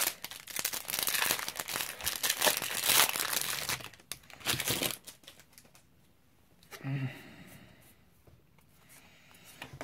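Oath of the Gatewatch booster pack foil wrapper ripped and crinkled open up close, a dense burst of crackling for several seconds that fades to quieter rustling and a brief final crinkle.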